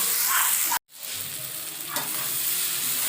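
Spices sauté and are stirred in a pan, making a loud continuous sizzle with spatula scrapes. A sharp cut briefly silences it before the frying resumes steadily.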